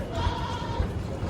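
A goat bleats a few times at a livestock market in Sindh, short nasal calls spaced out over a busy background murmur, fairly close.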